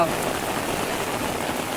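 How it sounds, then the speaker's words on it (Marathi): Heavy rain pours steadily over paddy fields in rural Konkan during rice planting, a constant close patter with a faint voice mixed in. "बघा पाऊस कसं पडता तो."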